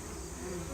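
Honey bees hum around an open beehive in a dense, continuous buzzing drone, close and steady, with no other sound over it.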